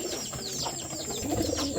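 Rajshahi Giribaz pigeons on a farm coo in soft, repeated rolling calls that sit close and clear, with a light hum of background noise and no voices.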